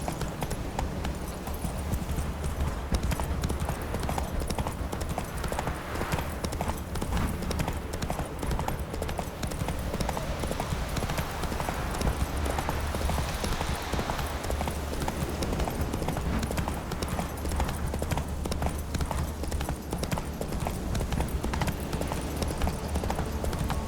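A horse's hooves clip-clop in a steady galloping rhythm in The Witcher 3: Wild Hunt, loud and constant throughout over a low ambient drone, with no talk.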